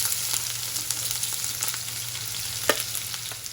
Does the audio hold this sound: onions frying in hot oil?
yes